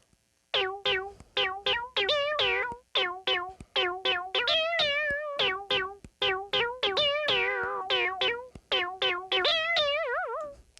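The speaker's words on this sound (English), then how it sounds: "Kind of weird cat meowing sound." An ARP Odyssey (Korg) synthesizer plays a fast run of gliding, wobbling notes that bend like a cat's meow. The lead line is loud, continuous and alone.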